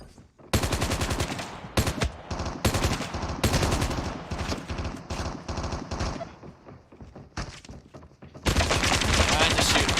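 Bursts of automatic gunfire in a Call of Duty Mobile battle royale match, loud and close, rattling in repeated volleys with brief gaps and a sustained stretch of firing at the end.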